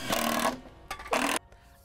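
Power screwdriver driving screws through a plywood panel into a wooden pallet for a vertical garden, two loud whirring bursts with a short gap between them, close by and without talk.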